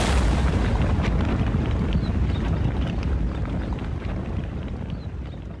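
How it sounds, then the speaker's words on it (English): A massive methane explosion in a coal mine, a loud, sustained low roar and rumble that holds steady and then slowly fades. "a massive explosion that reverberated through the mine"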